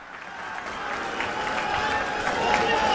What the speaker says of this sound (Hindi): जोरदार तालियों से स्वागत करिए मनीष जी का।